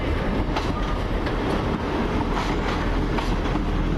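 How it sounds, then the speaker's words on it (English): A First Great Western diesel unit, number 158960, rolls into Bristol Temple Meads with a loud, steady rumble and faint rhythmic wheel clicks as it draws close along the platform. "Now coming in, the 12:39 First Great Western service from Great Malvern to Brighton"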